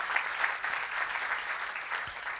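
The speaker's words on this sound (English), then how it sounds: "Let's give a big clap to them." An audience at a medical scientific conference applauds, giving a soft, even wash of many hands clapping throughout, heard from some distance.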